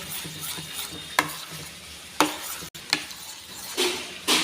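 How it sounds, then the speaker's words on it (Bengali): A spoon stirs a semolina and flattened rice batter mixed with ginger, garlic, chili and salt, giving close, wet scraping strokes against the bowl in a steady rhythm over faint background hiss, with no talking. "এটা আমি ভালো করে এর সঙ্গে মিশিয়ে নেব"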